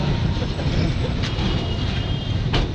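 A train slows down on railway tracks, its continuous loud rumble and rolling noise close by, with brief squeals standing out twice.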